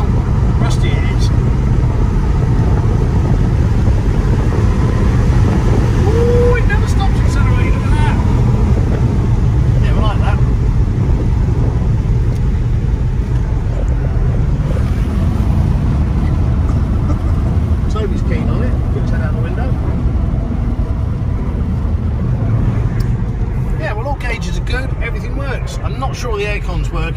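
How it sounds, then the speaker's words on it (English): A Jaguar S-Type 3.0 V6 with rear-wheel drive runs under way, its engine and road noise forming a loud, steady drone that fills the whole stretch with little change in level. "It does drive good, accelerates well, goes all the gears."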